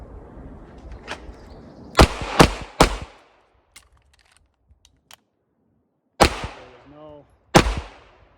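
Pistol shooting drill with a magazine change: three sharp, loud gunshots in quick succession, a pause filled with faint clicks and handling of the gun, then two more shots spaced apart, with an electronic beep between them.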